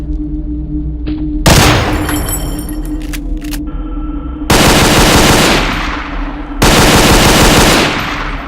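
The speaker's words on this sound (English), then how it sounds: "a clip of MG40 and MG34 would do the trick" Machine gun fire from MG40 and MG34 weapons in the video game Garry's Mod: loud, dense automatic bursts, a long burst followed by two more sustained volleys, close and dominant with a short pause between them.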